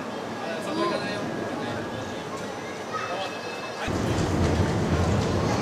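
An E7 series Hokuriku Shinkansen rolls into Tokyo Station with a rising rumble and hiss, while platform announcements and chatter carry over the noise.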